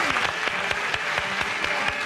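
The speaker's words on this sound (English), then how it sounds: "Give him a round of applause." A TV studio audience claps steadily, a moderate round of applause with scattered sharp hand claps, no voices on top.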